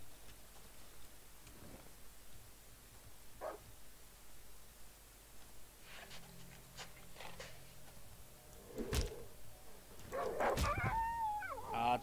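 A dog in the survival horror video game Darkwood barks and howls, with scattered sharp yelps building to a louder, drawn-out wavering howl at the end over a low rainy ambience, and no talking.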